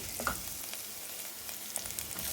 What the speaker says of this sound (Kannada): ಈರುಳ್ಳಿಯನ್ನು ಸ್ವಲ್ಪ ಕೈಯಾಡಿಸಿ ಚೆನ್ನಾಗಿ ಬಾಡಿಸಿಕೊಳ್ಳಿ.